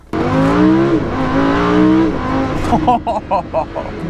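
A Lamborghini Huracan in sport mode accelerates hard in one loud, near, continuous rising engine pull, then settles into a few short revving bursts at the end.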